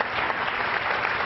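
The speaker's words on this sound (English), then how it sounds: "a round of applause for Catchfree" An audience giving a round of applause at a live pitch event, steady dense clapping from many people, fairly loud and continuous with no talk over it.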